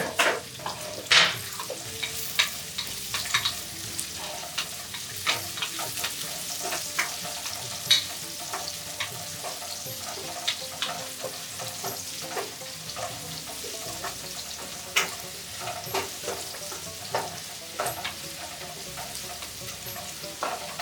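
Onion masala frying and being stirred in a pan for jackfruit biryani, a steady sizzle with frequent scraping and stirring clicks close by, no voices over it.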